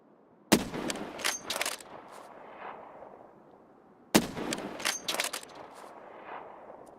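Two sharp, loud sniper rifle shots in Escape From Tarkov, each a sudden crack followed by a rolling echo and scattered reverberant tails, spaced a few seconds apart with quiet between.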